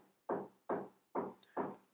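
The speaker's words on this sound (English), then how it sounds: "they're doing construction right next door" Construction work next door sends four heavy, evenly spaced knocks through the wall, each a dull thud with a short decay, fairly loud and heard alone with no talking over them.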